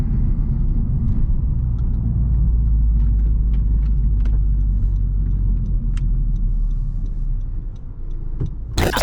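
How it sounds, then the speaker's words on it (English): A 2020 Honda Civic Type R is driven spiritedly on a twisty road, its engine a loud, steady low rumble heard from inside the cabin, with a brief sharp noise at the very end. "go and take it out for a test drive, see how it handles"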